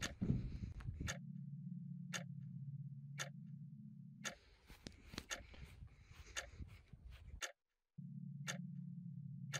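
Clock in the horror game The Apartment Next Door ticking steadily, sharp evenly spaced clicks about once a second over a low droning hum, with a stretch of rustling noise in the middle and a brief drop to silence.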